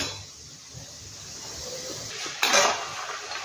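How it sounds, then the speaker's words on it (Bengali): Fried nimki, a Bengali snack, is lifted from a pan of oil with a metal utensil. A quiet clink and scrape comes close by and ends in a brief bright rattle, with no talk over it. "এভাবে এটা আমি ভেজে তুলে নিই।"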